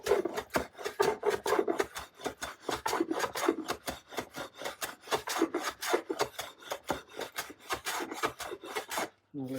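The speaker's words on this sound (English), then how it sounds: "with my trusty smoothing plate, I can just take a little bit off of there." Rhythmic rasping strokes of a smoothing plane shaving wood from a guitar body, dozens of quick close passes in steady succession, loud and alone, ending with a brief pause.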